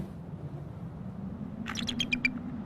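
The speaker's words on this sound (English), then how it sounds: "she's screaming right now at the male" A female American eagle, snow-covered in harsh winter weather, lets out a short series of sharp, high screaming calls toward the male, standing out over a steady low wind rumble near the end.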